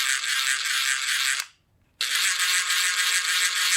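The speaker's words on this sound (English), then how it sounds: "So this is the impact driver, the one that we use for putting screws in." An impact driver drives screws with a loud, steady high-pitched buzzing rattle, broken by one short pause of silence before it resumes just as strongly.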